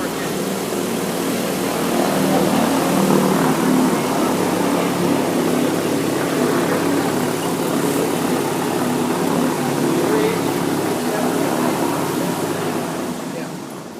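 An SIAI-Marchetti propeller aerobatic airplane engine drones steadily and loudly throughout, a continuous buzzing roar that swells slightly and fades near the end.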